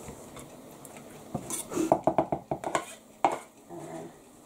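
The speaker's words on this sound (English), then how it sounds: "some nice white cabbage, nice and crisp. Pop that in the bowl." Crisp white cabbage tipped into a bowl in a home kitchen, making a quick run of sharp clattering knocks and rustles up close, then quieting to a soft background.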